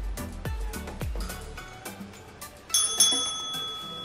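A dog taps a small bell to ask to go outside: a few soft knocks first, then a bright metallic ring that hangs in the air near the end, close by with no talking.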